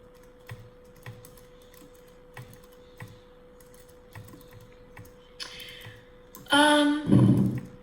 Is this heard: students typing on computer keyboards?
yes